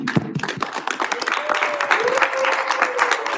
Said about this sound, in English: Please give a round of applause for Isaac.